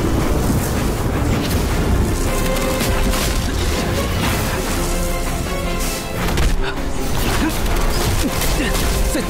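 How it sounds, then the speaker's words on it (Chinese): A lightning strike spell cast in an academy courtyard sets off a heavy explosion. The crashing roar stays loud and dense for about nine seconds, with rumbling bursts layered through it. "在自家学院广场用落雷术"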